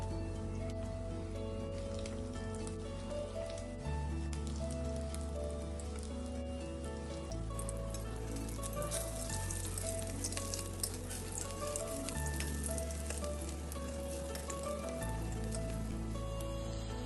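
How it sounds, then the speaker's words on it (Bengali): Fish roe fritters fry in hot mustard oil with a steady, dense sizzle that runs for the whole stretch, with background music playing underneath. "তেলটা গরম হওয়ার পর আমরা একে একে বড়াগুলিকে ভেজে নেব।"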